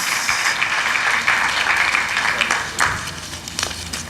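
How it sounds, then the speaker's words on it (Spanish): An audience claps loudly and steadily for the helpers at a religious talk, a dense, continuous wash of applause lasting the whole stretch with no voices on top. "démosles un fuerte aplauso a mis ayudantes"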